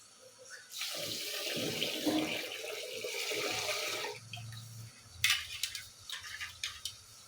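Rice rinsed under running tap water in a sink, a gushing stream for a few seconds, then sloshing and swishing splashes as the grains are washed by hand, close and clear.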